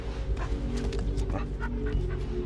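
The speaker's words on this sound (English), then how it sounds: "I'm gonna give this to my very happy dog." A dog in the video game AR-K barks and whimpers in short yips and whines, heard at moderate loudness over a steady background hum.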